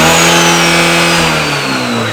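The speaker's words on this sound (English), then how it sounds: "Try rev it over 5K real quick." An Abarth 124 Spider with a swapped TJet engine and Garrett G25-550 turbo revs hard past 5000 rpm, a loud, close, sustained engine howl whose pitch holds high and then eases slightly near the end, with no talk over it.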